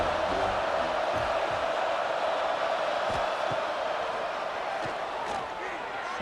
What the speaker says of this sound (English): Crowd excited.